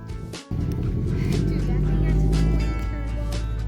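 A twin-turbo car engine near the Hoover Dam rumbles low and steady, growing into a strong sustained drone after a brief dip, with people talking over it.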